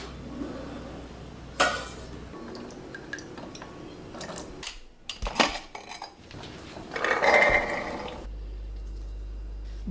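Dishes and cutlery clatter in a home kitchen while morning coffee is made, with scattered clinks and knocks, a sharp rattle near the middle and a brief run of water-like splashing toward the end, close and moderately loud.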